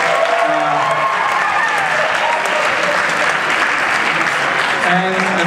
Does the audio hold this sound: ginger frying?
no